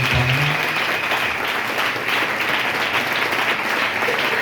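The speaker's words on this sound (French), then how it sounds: "Est-ce qu'on peut acclamer pour lui?" Church congregation applauding and cheering their pastor at a lively Sunday service in Lubumbashi, a dense, steady wash of clapping that fills the whole stretch at full loudness, with some voices mixed in.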